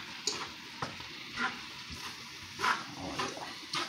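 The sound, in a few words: stir fry sizzling in pan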